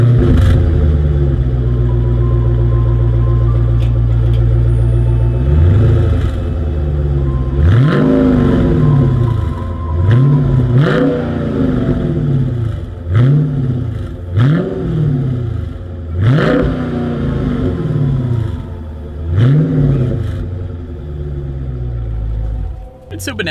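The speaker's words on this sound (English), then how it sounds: "As always, here is that exhaust clip." A 2020 Dodge Challenger R/T Scat Pack's dual exhaust with chrome tips idles with a deep rumble, then a series of about seven loud, sharp revs rise and fall in a regular rhythm.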